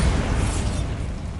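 A Bombarda spell explosion in the Hogwarts Legacy video game: a single loud, booming blast with a rumbling low end that fades over about a second.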